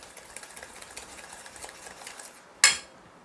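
Cookie batter for farali biscuits is mixed in a bowl with a rhythmic, steady scraping and whisking, ending with one sharp clink of utensil against the bowl.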